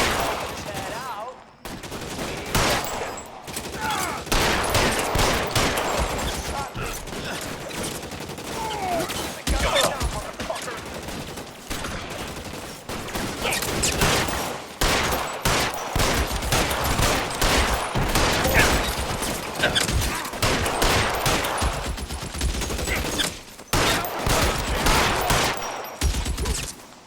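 Sustained gunfire shootout in the crime video game L.A. Noire, with dense rapid bursts and repeated shots running nearly continuously at high loudness, with short lulls and shouted voices mixed underneath.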